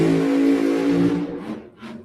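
A drag race car's engine at a qualifying event holds a loud rev, then drops off as the throttle is lifted and blipped, with two short rising bursts at the end.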